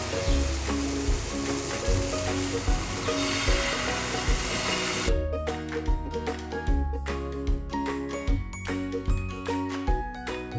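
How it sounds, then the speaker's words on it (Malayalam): Water poured onto a hot dosa tawa over a stove bursts into a loud, steady hiss of sizzling for about five seconds, then gives way to sharper crackling and popping that continues to the end. "ഇനി നമുക്കിതിലേക്ക് വാട്ടർ ഒഴിച്ചു കൊടുക്കാം."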